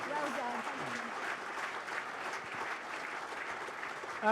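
Steady applause from a crowd at a school sports awards ceremony fills the clip, continuous clapping with no break, moderately loud throughout.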